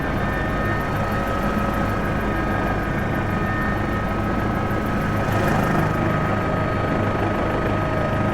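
An Agusta 119 helicopter runs with its rotor turning, a loud, steady close-up roar of turbine whine and rapid, even blade chop that fills the whole stretch with no pause.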